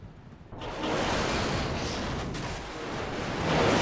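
A Bf109G-2 fighter crash-landing into a forest in the IL-2 Sturmovik: Battle of Stalingrad flight game, a sudden loud crunching impact followed by sustained roaring, rumbling noise that swells again near the end.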